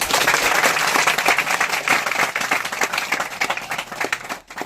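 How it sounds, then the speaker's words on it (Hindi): An audience at a Christian worship gathering claps together in a dense, continuous burst of applause that carries on for a few seconds before tapering off. "ताली बजा के यीशु मसीह का स्वागत"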